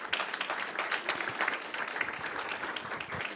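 Audience applause at a live event, a dense, steady patter of many hands clapping throughout, moderately loud and even, with one sharper clap standing out briefly.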